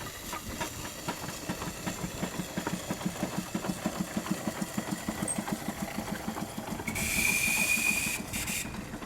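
A model Plasto-Burrell showman's steam engine runs with a steady, rhythmic chuffing beat close by, and a loud burst of hissing steam rises near the end.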